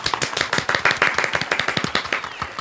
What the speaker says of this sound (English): A big round of applause for my boss